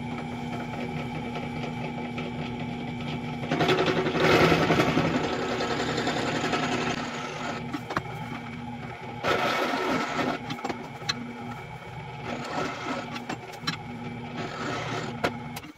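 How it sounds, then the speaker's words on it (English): A drill bores out steel gate hinge loops to 5/8 inch, its motor running in long sustained bursts that rise and fall in loudness over a steady background hum. "So now I have all four of these definitely drilled out to 5/8"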